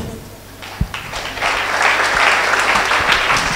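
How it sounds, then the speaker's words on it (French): Applause from an audience at a French debate competition, starting with a few scattered claps and swelling into steady, full clapping from the crowd that continues to the end. "Encore un peu plus d'applaudissements pour encourager notre chère Victorine"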